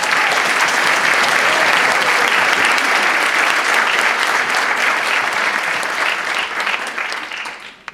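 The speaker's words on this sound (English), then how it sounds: "can we have a big round of applause" Sustained, loud applause from a theater audience at a school production of Guys and Dolls, a dense wash of clapping that holds steady for several seconds before tapering off near the end.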